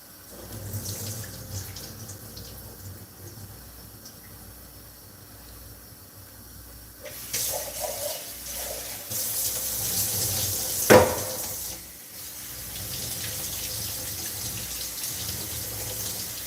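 Tap water runs in a kitchen sink to wash green gungo peas, a steady hiss that grows louder and splashier partway through, with a brief clink of a container near the middle and no talk.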